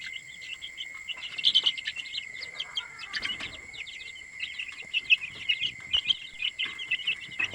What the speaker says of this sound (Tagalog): Ito mga wala pang mga 3 weeks old pa lang to mga sisiw ko sa mga native crossbreed ng native